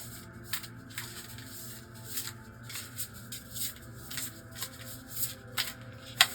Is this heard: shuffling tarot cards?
yes